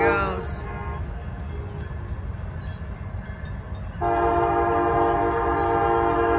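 Amtrak passenger train P371 rumbles past in Holland, Michigan, with a steady roar of rolling cars, its horn sounding briefly at the start and then blaring in a long sustained blast nearby.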